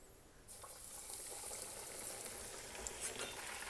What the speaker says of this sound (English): Now we're ready to fry these up